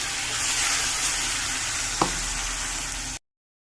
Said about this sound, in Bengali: এবার আমি মশলাগুলো দিয়ে দিচ্ছি সব